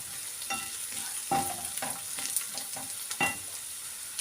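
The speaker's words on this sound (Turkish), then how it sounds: "mantılarını kızartacağım arkadaşlar" Turkish mantı dumplings sizzle in hot oil with a steady crackle, punctuated by several stirring scrapes and clatters close by.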